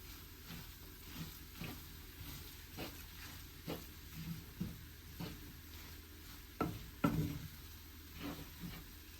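Onions fry for a fish curry in a pan with a soft, continuous sizzle, overlaid by quiet, irregular stirring scrapes, faint and close, with no voices.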